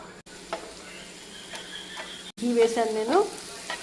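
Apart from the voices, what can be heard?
stirring carrot halwa frying in ghee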